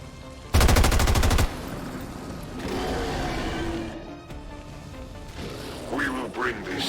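Soldiers open fire in the XCOM 2 video game: a short, loud burst of rapid automatic shots, followed by rumbling effects with voices talking over it.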